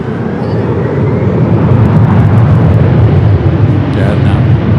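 A SkyWest airliner rolls for takeoff on runway 24 left at LAX, a loud, steady broadband jet roar that holds throughout with a slight swell midway, while someone talks faintly over it.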